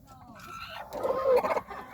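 A hen clucks a few soft, drawn-out notes at close range, a short rising call after a brief quiet start, with faint background noise.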